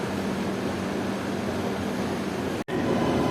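Okha–Guwahati Dwarka Express pulling out of New Bongaigaon railway station, a steady broadband rumble and rush of rolling carriages close by, briefly cutting out near the end, with no voices.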